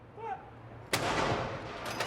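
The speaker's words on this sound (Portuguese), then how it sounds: "a artilharia real do exército britânico recepcionou Charles com algumas salvas de tiro." A single heavy boom of a British Army royal artillery gun salute for King Charles bursts out and rolls on, with a second shot following soon after and faint voices just before.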